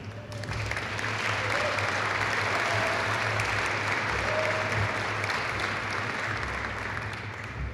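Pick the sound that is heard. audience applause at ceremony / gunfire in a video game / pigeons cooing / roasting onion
audience applause at ceremony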